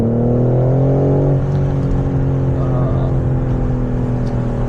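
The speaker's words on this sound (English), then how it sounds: "You guys can hear some burbles." BMW M4 Competition exhaust while driving, a loud, close engine drone that rises early, then settles into a steady cruising hum with faint crackling burbles over it and no talk.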